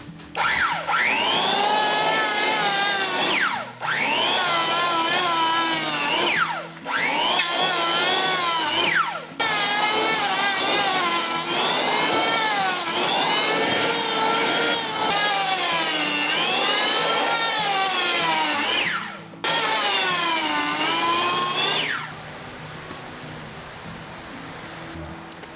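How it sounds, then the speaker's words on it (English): A chainsaw fitted with a thin Tsumura bar carves into wood for a giant table, the engine loud and close, rising and falling in repeated cuts broken by short pauses before settling to a quieter idle. "I wanted to carve into it with a thin chainsaw bar"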